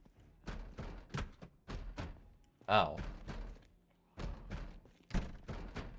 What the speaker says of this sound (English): They are just outside banging on the doors because they're dumb.